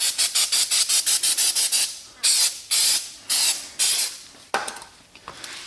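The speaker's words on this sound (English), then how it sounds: "you're going to want to spray the outer rim where the actual pad goes" Brake cleaner sprays close by onto the outer rim of a rear brake rotor on a Nissan, in a quick string of short hissing bursts, followed by several longer aerosol blasts with pauses between.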